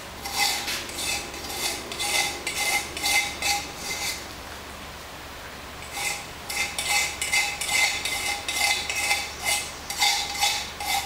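Knife blade scraping rhythmically against a glazed pottery piece to mark the glaze depth, repeated close strokes in two bursts separated by a short pause.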